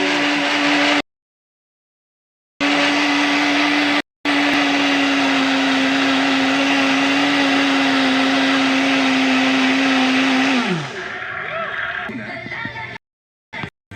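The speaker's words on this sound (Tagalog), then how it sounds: "Blend lang po natin ng maigi." Blender whirring steadily as it purees dragon fruit ice cream with cheese and chia seeds, a loud sustained motor drone broken by brief pauses before it winds down.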